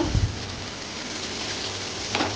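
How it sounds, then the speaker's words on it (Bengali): Rohu fish pieces frying in a pan give a dense, steady sizzle that crackles like rain, with a soft thump near the start and a brief louder spit near the end. "তোমার দাদা মাছ ভেজে দিচ্ছে, মাছ ভাজা হচ্ছে"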